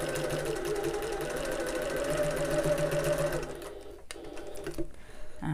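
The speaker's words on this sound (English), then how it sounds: "I'm going to back stitch at the start and the end of these box corners." Sewing machine back stitching box corners on a bag, a steady whirring hum of running stitches that stops partway through, followed by quieter handling sounds and a brief click.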